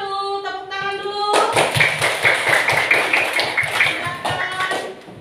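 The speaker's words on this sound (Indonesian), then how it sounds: "Tepuk tangan dulu." Applause in a classroom: a short melodic chime fades into a burst of many hands clapping in a rapid, uneven rhythm, close and lively, with children's voices mixed in.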